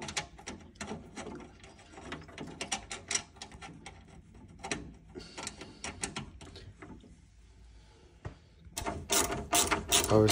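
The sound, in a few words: tightening boiler panel screws with a ratchet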